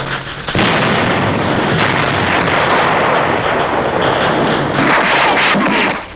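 Artillery shells exploding during the 1945 Battle of Okinawa, a loud continuous barrage of booms and blasts in old newsreel sound with limited high end, starting abruptly and running almost unbroken.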